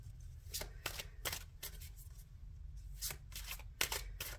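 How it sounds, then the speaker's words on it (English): Tarot cards being shuffled in quick bursts of crisp riffling flicks, several separated by short pauses, close and fairly loud with no talking. "I'm shuffling the wrong deck"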